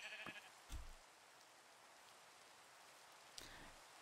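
A few short sheep bleats from Minecraft sheep, one near the start and another a few seconds later, quiet against a soft rain-like hiss.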